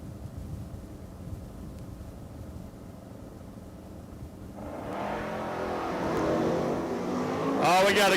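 Drag racing cars launching down the strip at a bottom-bulb event, heard at a distance: a low murmur that swells into a roaring, rising engine burst about halfway through, growing louder toward the end.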